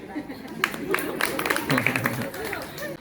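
An audience claps for newly arrived guests at a women's empowerment and self-help group gathering. The steady applause blends with crowd murmur and speech throughout.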